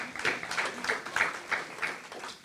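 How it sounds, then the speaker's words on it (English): Sparse applause from a small audience at an Atlanta NAACP jubilee celebration, a handful of rhythmic claps repeating roughly every third of a second, fairly faint and close. "Could y'all give Cedric another round of applause for that wonderful selection?"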